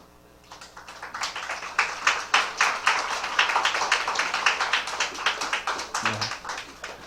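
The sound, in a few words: children clapping in church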